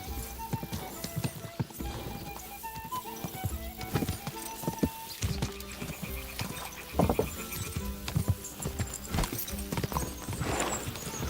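Horse hooves clop rapidly and rhythmically at a gallop in the video game Kingdom Come: Deliverance 2, close and busy, with occasional whinnies and game ambience behind them.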